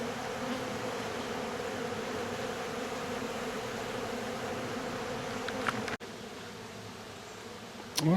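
Wild honeybees swarm around an old hickory log that holds their colony, a steady close buzz that keeps going for several seconds, then drops off sharply near the end.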